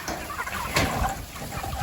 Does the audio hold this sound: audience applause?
no